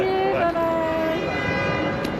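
Ambience at Suzhou train station in China: a loud, steady hum with sustained horn-like tones at the start, fading into a continuous rail and crowd wash.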